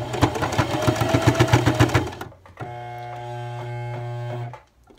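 A sewing machine stitching a sweater runs in a fast, even clatter of needle strokes, pauses briefly, then hums at a steadier, smoother pitch before stopping, all close by.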